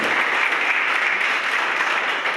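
Loud, dense audience applause at an Independence Day (15 August) speech event, a steady wash of many hands clapping close by for the whole stretch with no talk over it.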